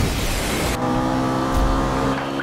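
A car accelerating at full throttle in the racing game Need for Speed Rivals, its engine roaring loud and close, with a sharp rising whine as it revs up, then a steady high drone.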